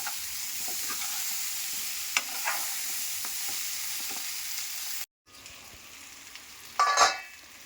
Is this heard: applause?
no